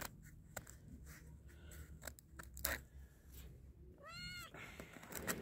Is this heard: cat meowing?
yes